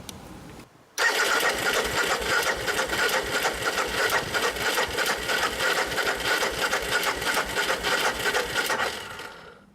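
A motorcycle starter cranks the engine with fuel injection cut, powered by a homemade LiFePO4 battery, giving a loud, rhythmic whirring chug that begins abruptly after a second and runs steadily for about nine seconds.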